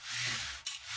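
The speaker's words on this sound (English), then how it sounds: "The most important part of the Iynx wheel is the sound it makes, this otherworldly whirring sound." An Iynx wheel, an ancient Mediterranean magical spinning device, gives a steady airy whir with a brief surge near the end, heard alone.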